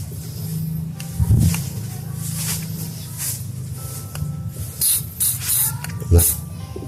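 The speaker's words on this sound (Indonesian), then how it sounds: "Kita semprot dulu dari atas." Carbon cleaner sprayed onto an O2 sensor of a Yamaha NMAX scooter: several short, close hissing spray bursts over a low steady hum.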